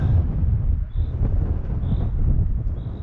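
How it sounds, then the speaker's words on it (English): Wind blows across a mountaintop near a refuge above a chairlift, a continuous low rumbling roar that buffets the microphone in uneven gusts. "Windy from behind now."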